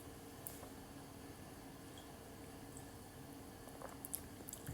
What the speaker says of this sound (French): du coup c'est des boissons avec des bulles